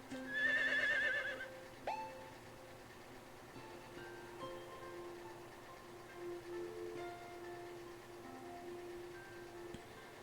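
A horse in the Harvest Moon video game whinnies once clearly near the start, followed by faint clip-clop steps and soft game tones under a quiet background.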